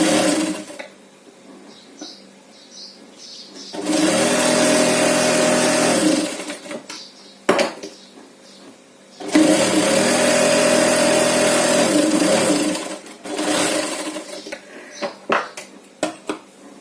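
A sewing machine stitches a zipper chain onto a handmade purse, running in two long, loud, steady whirring bursts separated by pauses with small handling clicks and fabric rustles.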